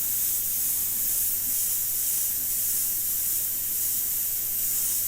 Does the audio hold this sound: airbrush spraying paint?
yes